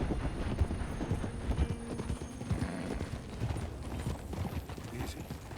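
Horse hooves clip-clop steadily at close range on a dirt road in the Western video game Red Dead Redemption 2, with a brief whinny and low game ambience underneath.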